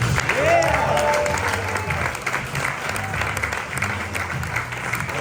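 A comedy club audience breaks into applause for a stand-up comic taking the stage, a steady wash of clapping with some whoops and crowd noise while someone speaks over it into the microphone.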